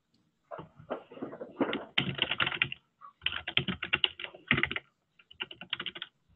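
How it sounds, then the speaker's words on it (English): Someone types on a computer keyboard during an online webinar call, bursts of rapid close clicking separated by short pauses, with no talk over it. "Is that you typing, Eric?"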